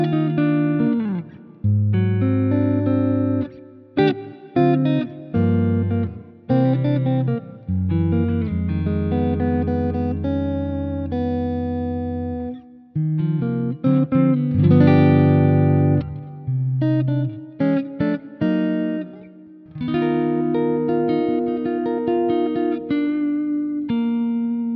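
An offset electric guitar in a clean tone plays chords and single-note runs, loud and close, with short pauses between phrases.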